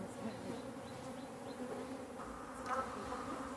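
African honey bees hum steadily around an opened hive frame during a post-winter hive inspection, a faint, even buzz throughout with brief louder passes near the end.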